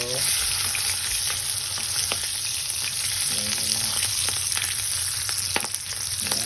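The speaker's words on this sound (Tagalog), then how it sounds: "Habang piniprito po natin to." Milkfish belly fries in hot oil in a pan, a dense, steady sizzle heard up close with frequent small crackles and pops and no talk.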